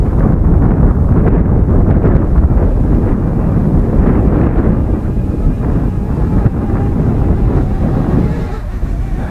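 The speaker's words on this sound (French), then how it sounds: "Alerte vent fort." Strong wind buffets the microphone outdoors at a drone flight, producing a loud, continuous low rumble that fills the whole stretch, with slight easing toward the end.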